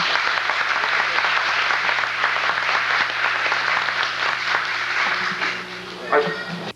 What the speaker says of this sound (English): a well-rounded round of applause to support them and wish them luck